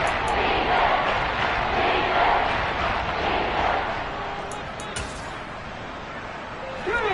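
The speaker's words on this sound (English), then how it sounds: "the crowd getting into it as we come up on a big 3rd down" A football stadium crowd in a video game roars loudly and steadily during the fourth quarter ahead of a big third down, easing slightly toward the end, with a commentator's voice faintly present.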